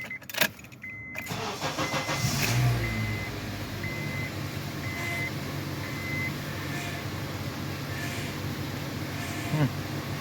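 A Honda CR-V with fresh power steering fluid cranks briefly and catches, then runs at a steady idle with a faint whine and intermittent beeping chimes, heard close up.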